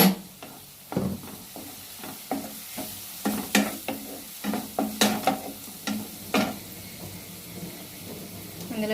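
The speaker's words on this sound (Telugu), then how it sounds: "ఇలా బ్రౌన్ కలర్ వచ్చేంత వరకు వేయించండి దాన్ని." Cubes of paneer fry in a pan until browned, a soft continuous sizzle broken by repeated scraping and knocking as a spoon stirs them, with short gaps between the strokes.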